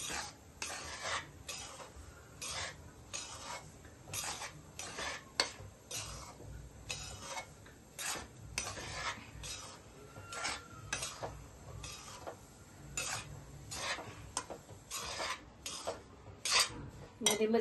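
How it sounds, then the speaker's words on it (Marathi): Semolina dry-roasted in a pan for rava besan ladoo, stirred with a spoon in quick repeated scraping and tapping strokes against the pan, close and steady, with no talking. "आधी थोडासा कोरडा भाजायचा आणि मग तूप टाकायचं"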